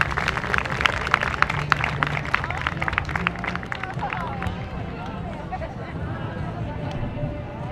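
An outdoor crowd at a Fourth of July celebration claps and cheers for K9 Putnam, a police dog, after a narcotics-detection demonstration. The applause is dense and steady, with loud bursts that fade slightly, and crowd chatter mixes in.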